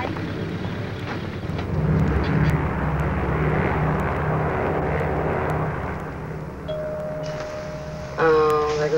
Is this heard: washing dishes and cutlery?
no